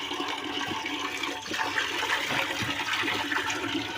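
Water rushing and pouring into a large container, a steady full-bodied gush that holds at moderate level throughout with no speech over it.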